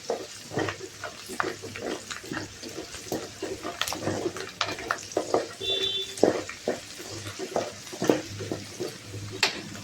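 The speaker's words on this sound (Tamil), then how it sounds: "கருவேப்பிலையும் பூண்டும் அதில் போட்டாச்சு. அது கொஞ்சம் பொரியட்டும்." Curry leaves and garlic frying in oil for a ghee-fish dried-fish pickle, with a steady sizzle broken by frequent clinks and scrapes of stirring, close and moderately loud, with no talking.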